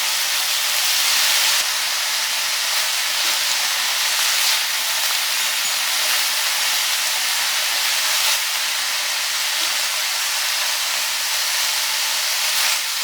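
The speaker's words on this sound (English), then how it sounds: "So I'm adding the mushrooms as well. I'll stir fry them all together." Broccoli and mushrooms stir-fry in a hot pan with garlic sauce, giving a steady, loud, close sizzling hiss with faint clicks of stirring and no pauses.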